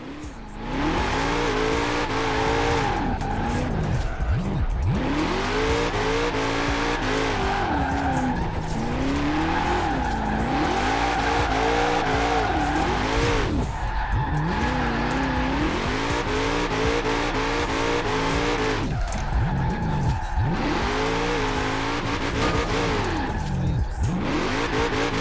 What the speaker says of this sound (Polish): Okej, okej, szaleje fura.